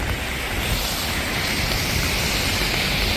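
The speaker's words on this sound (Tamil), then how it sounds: "இந்த நோட்கொரியா போர்டரில் மழை பெய்யுதுன்னு பாருங்க." Steady, even rain hiss falls continuously over a North Korea border area near Dandong, with no distinct drops or pauses and no voices.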